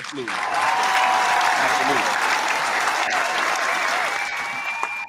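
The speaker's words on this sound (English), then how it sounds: "Can we get one more clap?" A live show audience breaks into loud, sustained clapping that stays full and even for several seconds, with a few faint voices mixed underneath.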